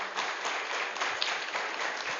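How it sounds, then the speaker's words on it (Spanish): A church congregation at a water baptism service applauds, a dense, even wash of clapping heard at moderate volume for a couple of seconds. "un fuerte aplauso para ella, por favor."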